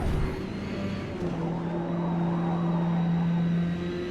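A Corvette C8R race car slides around Suzuka in a racing game, its engine a steady, close drone with tonal whine and a faint tyre scrub beneath, running continuously without talk.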